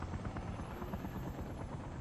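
A helicopter flying in winter, a faint steady rotor drone with a low pulsing thrum, distant and continuous for a couple of seconds with no talk.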